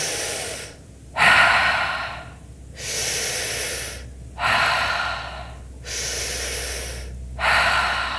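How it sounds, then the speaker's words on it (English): A person doing a deep breathing exercise takes slow, loud, close breaths, a long audible inhale alternating with a steady exhale through a narrowed airway, repeated about four times in an even rhythm with no talk. "almost like I'm breathing through a straw"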